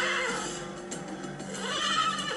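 Horses neigh and whinny in a drawn-out, wavering call, fairly close and clear, with faint background noise and no speech.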